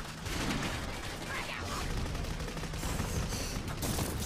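Sustained gunfire in the Clive Barker's Jericho video game, a dense, continuous clatter of shots and chaotic combat noise at steady loudness throughout, with no clear gaps between bursts.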